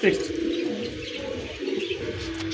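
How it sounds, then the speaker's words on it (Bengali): A pair of jet-black pigeons coo in low, repeated throaty notes at close range, with a brief chirp at the start and a little background noise. "কুচকুচে একজোড়া কালোর মধ্যে কবুতর দেখাই দিছে"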